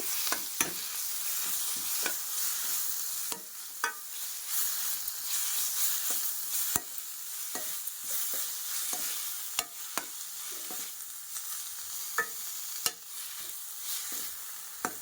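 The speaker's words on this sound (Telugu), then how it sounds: "చూడండి చక్కగా వేగిపోతుంది." Masala onion paste with tomato juice for a kaju makhana curry fries with a steady, hissing sizzle in the pan, broken by frequent sharp scrapes and taps of a spoon as it is stirred, with no talk.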